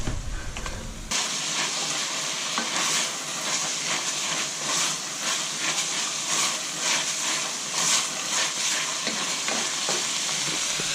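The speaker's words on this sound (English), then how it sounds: "Now it's sizzling like it's frying." Minced meat for Bolognese ragu sizzles and crackles in a hot pan, a steady frying hiss with occasional stirring scrapes.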